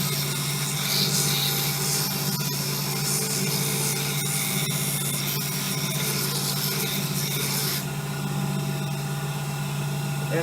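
Coarse sandpaper held against a wooden handle spinning on a lathe, a steady loud whirring hum with continuous gritty friction that stays constant throughout, no talking.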